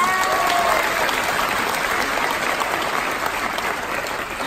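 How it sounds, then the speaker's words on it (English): A round of applause from a seated audience at a live onstage product event, dense and even clapping heard close and loud for the whole stretch, fading slightly toward the end. "Just one more round of applause"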